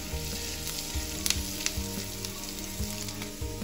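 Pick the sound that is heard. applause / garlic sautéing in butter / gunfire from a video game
garlic sautéing in butter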